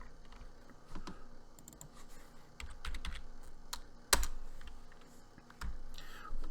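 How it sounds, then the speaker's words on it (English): Fingers type steadily on a computer keyboard while someone writes code, producing irregular bursts of light clicks and a few heavier key strikes such as a spacebar, close and fairly quiet, with no talking. "let me just type this out"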